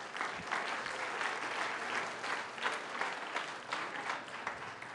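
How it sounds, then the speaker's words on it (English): A theatre audience gives a warm round of applause for volunteers joining a math performer on stage, dense sustained clapping from a large crowd, even and continuous, with no talking over it. "let's give these volunteers a nice round of applause"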